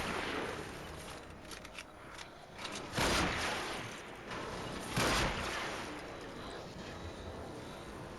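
Gunshots in a video game, fired at enemies: a few widely spaced, muffled blasts standing out over a steady noisy background, fairly faint overall.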